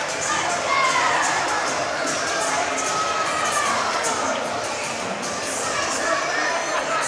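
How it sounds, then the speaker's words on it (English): A packed gym crowd at a boys basketball district semifinal roars and cheers loudly and steadily, with shouts and chatter rising throughout. "Boy, this place is rocking."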